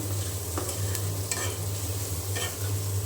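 Onions fry lightly in oil in a pan beside fried tilapia, a close steady sizzle punctuated by a few scraping stirs of a utensil.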